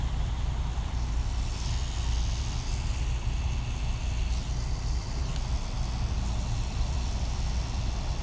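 A tattoo machine's steady, close electric motor hum with broadband noise, running continuously and evenly throughout without variation or pauses.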